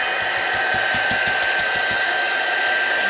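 A hair dryer drying paint on paper, a steady loud close whine and rushing airflow held at an even level throughout, with no voices.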